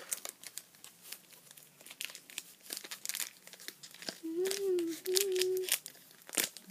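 Pokémon XY Yveltal tin card packs are shuffled, their foil wrappers crinkling and crackling in quick bursts close by, with a short hummed melody in the middle.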